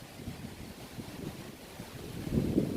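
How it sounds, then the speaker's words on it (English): Low, buffeting rumble of strong wind against the microphone at a park, gusting unevenly and growing heavier toward the end. "not sure why the wind is so hard down here"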